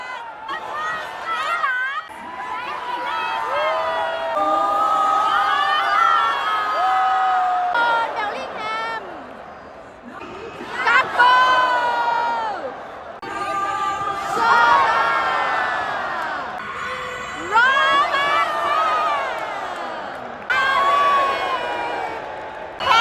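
A large stadium crowd at Singapore's National Stadium cheers and chants loudly during a Liverpool versus Bayern Munich friendly, with swelling waves of voices and singing rising and falling throughout.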